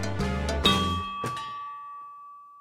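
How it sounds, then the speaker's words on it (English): Notification bell sound effect: a bright ding-dong chime of a few struck tones, the last ringing out and fading slowly into silence, loud and alone. "ring the bell for your notifications"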